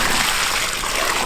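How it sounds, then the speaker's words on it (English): Water gushing from a hose into a freshly dug planting hole for a blueberry bush, a loud, steady rushing splash close by with no pause. "Let's get some water in"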